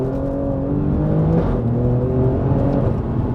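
An Alfa Romeo Giulia Quadrifoglio accelerating on a drive, its engine droning loud and close from the cabin with the pitch rising through the gears, and no voices.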